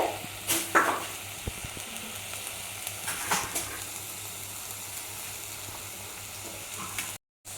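Cauliflower fries in a pan for an Onam special masala curry and is stirred, giving a steady sizzle under a few scraping spoon strokes and soft clinks, close and moderately quiet.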